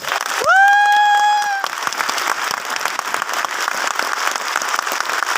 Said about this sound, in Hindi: महेंद्र सिंह धोनी के लिए एक बार जोरदार ताली।